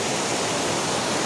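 A stream flows with a steady broadband rush of water, constant and fairly loud throughout with no breaks.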